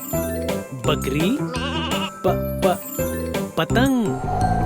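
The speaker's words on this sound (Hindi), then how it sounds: "बकरी" A goat bleats in a wavering call amid a bright children's song with steady music, bells and a tinkling accompaniment.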